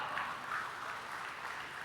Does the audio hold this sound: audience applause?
yes